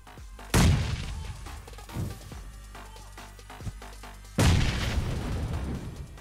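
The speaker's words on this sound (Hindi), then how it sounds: "यहाँ ऊपर वाले फ्लोर पे एक डांसिंग ग्रेनेड करता हूँ" Dancing grenades explode inside a building in a multiplayer shooter game, with two heavy, close booms a few seconds apart and smaller bangs and pops in between.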